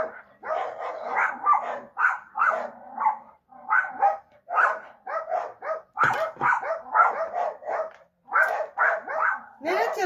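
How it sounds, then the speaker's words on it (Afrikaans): Several dogs bark repeatedly in a rapid, loud, near series of yaps and woofs with short pauses, sounding agitated, in a home setting during cooking. "die honde gaat nou weer te keel."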